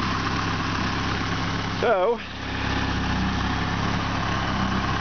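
An Opel GT engine fitted with MaxxECU fuel injection and a 60 mm throttle idles steadily and smoothly close by, a continuous low hum running through the whole stretch while someone talks briefly over it.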